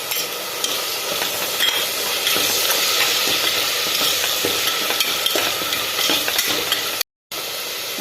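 Curry leaves and coriander leaves sauté for a Kerala-style vegetable kurma, giving a loud, continuous hissing sizzle close up, with faint spatula stirs underneath and a brief cut to silence near the end.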